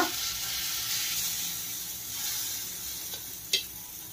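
Punugulu (gunta ponganalu) batter sizzling in a hot pan at home, a steady close frying hiss with a couple of brief sharper pops and spits near the end, no talk.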